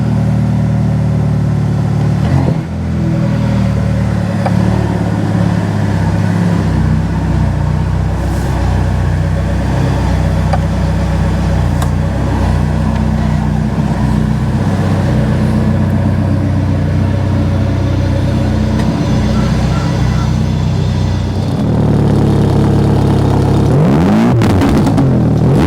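A Ferrari Roma cruises along with its engine running steadily, a continuous mid-pitched drone and road rumble that swells near the end as the car revs and accelerates, with no talking.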